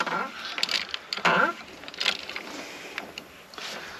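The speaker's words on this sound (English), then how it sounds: "That's what your 24mm or 15/16 socket goes onto. So you just crack it open." A socket ratchet, fitted with a 24mm (15/16) socket, cracks loose the oil drain plug under a Jeep Gladiator. It gives a few sharp, close mechanical clicks and clunks spread unevenly over the few seconds, with no talking.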